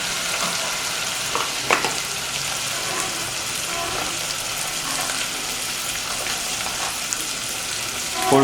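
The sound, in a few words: stirring spices frying in a pan for beef curry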